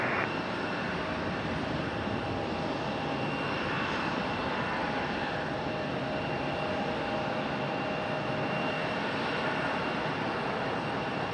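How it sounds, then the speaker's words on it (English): A Boeing 777 at Raleigh-Durham International Airport rumbles with a steady, broad jet-engine roar as it moves along the ground, heard continuously from a distance without talk. "Finally, the 777 moving."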